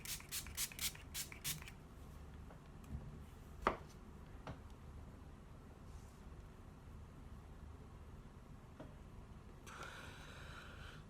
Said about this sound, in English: we set our face using the HangoverRX 3-in-1 setting spray